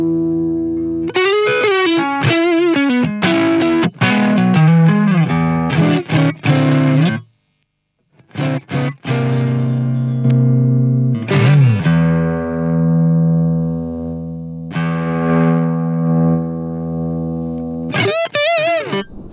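An electric guitar run through a pedalboard with MXR boost and distortion pedals, played alone as loud, sustained distorted chords and riffs with bursts of picked notes, a brief silent gap, then ringing held chords.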